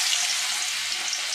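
Anchovies coated in masala frying in hot oil, a steady, dense sizzle with a bright hissing quality throughout, close and continuous with no voices.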